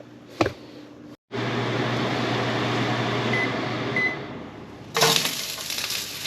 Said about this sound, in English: let me put the fan on